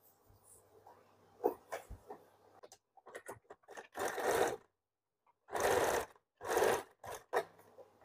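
Sewing machine stitching a sleeve onto a blouse at the shoulder seam in short bursts of whirring, with scattered handling and rustling of fabric between runs.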